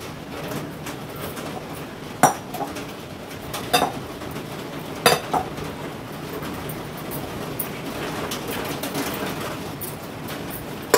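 A spoon scoops steamed sabudana into a bowl for khichdi, giving a few sharp metallic clinks scattered over a soft, steady background rustle.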